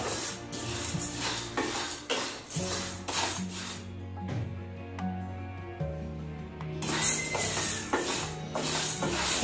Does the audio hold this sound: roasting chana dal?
yes